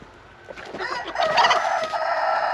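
Chickens cluck and squawk close by outside a hobby coop, a busy, overlapping chorus that grows louder and more agitated partway through.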